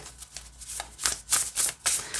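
A deck of thin Starcodes Astro Oracle cards being shuffled by hand, with several quick papery riffles and soft flutters in a close, irregular rhythm and no talking.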